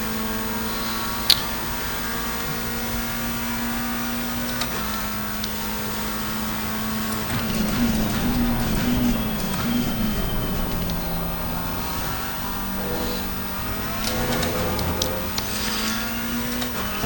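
McLaren 720S GT3 race car engine at Monza in the racing game Assetto Corsa Competizione, a steady droning engine note with shifts in pitch as the car accelerates, continuous and fairly loud.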